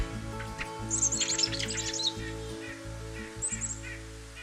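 Squeaky, creaky rusty blackbird calls like rusty hinges, in short bursts, a rapid series near the start and another later, over a steady low hum.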